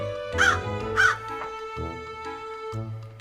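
A crow caws twice in close succession, loud and near, then softer tonal bird calls follow over a quiet background.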